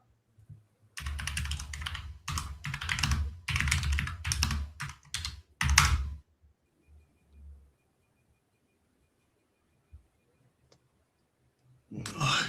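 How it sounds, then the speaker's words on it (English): Fast typing on a computer keyboard comes in dense, close bursts of clicking for about six seconds, then falls to near silence with only a few faint taps. "my typing is terrible"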